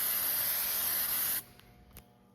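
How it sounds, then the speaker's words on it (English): Silicone spray hisses in one steady, close burst onto the rubber seal of an LED H11 low-beam headlight bulb on a 2003-2008 Toyota Solara. The hiss cuts off abruptly, followed by a soft click. "I'm gonna spray this with a little bit of silicone spray"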